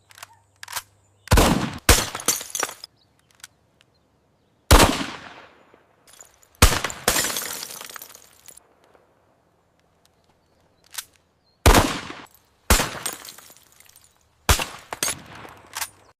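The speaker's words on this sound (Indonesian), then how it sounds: "Lalu arahkan ke target, bidik dan tembak." Gunshots in the Perjuangan Arek Suroboyo video game as a player aims and fires, about a dozen sharp, loud single reports in irregular bursts separated by near silence, some with short decaying tails.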